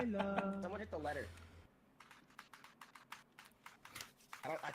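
Rapid, loud clacking of keys on a computer keyboard, in irregular bursts, following and then beneath a stretch of speech and in-game sound.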